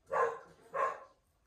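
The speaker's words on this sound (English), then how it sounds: "Sorry about the dog in the background as well." A dog barks twice in a room, muffled and fairly quiet, two evenly spaced woofs heard from the background.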